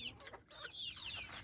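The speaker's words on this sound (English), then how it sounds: "I usually have these chickens, you can hear them say, mama baby, mama baby, mama baby." Backyard hens cluck and chatter up close, a quick run of bright, choppy calls filling a short burst with no talk over them.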